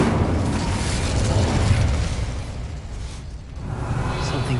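A fire spell blast in a Hogwarts video game roars as a loud, sustained rumbling boom that swells over a few seconds, dips briefly, then rises again.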